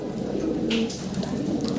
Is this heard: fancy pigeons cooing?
yes